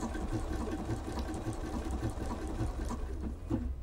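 A Bernina sewing machine runs steadily through a blanket stitch on fabric, a continuous close mechanical whir with a quick repeating stitch rhythm and no voices.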